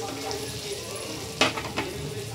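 Pieces of Indian mackerel fry in a pan with a continuous close sizzle. A sharp utensil scrape or clink cuts through twice.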